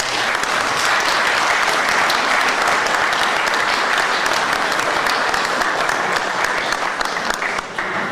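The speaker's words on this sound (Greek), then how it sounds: "να δώσουμε ένα χειροκρότημα στον κύριο Γιώργο." Loud, sustained applause from a studio audience at a Greek sports broadcast, dense and even clapping that fills the whole stretch without pause.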